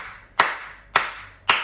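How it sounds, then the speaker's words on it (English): Three sharp hand claps evenly spaced about half a second apart, keeping a steady beat, close and clear with quiet gaps between. "have a go at clapping the beat"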